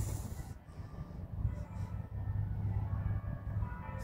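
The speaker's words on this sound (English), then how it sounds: "Look at that goods train going over there." A goods train rumbles past in the distance during an outdoor morning walk, a steady low drone with a faint hiss that holds for the whole stretch without clear clacks.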